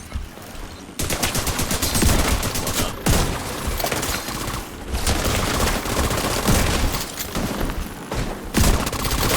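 Shotgun fire in the video game The Division 2, a loud, dense stretch of repeated blasts and rapid gunfire running almost continuously, with brief gaps between volleys.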